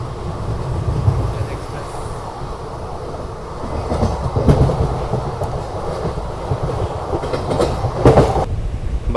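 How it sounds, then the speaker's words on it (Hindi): A special passenger train runs along a dedicated freight corridor as it overtakes the Magadh Express, giving a steady close rumble with clattering rail noise, a couple of louder swells and a voice talking over it. "ये देखो भैया मगध एक्सप्रेस को ओवरटेक कर रहे हैं हम"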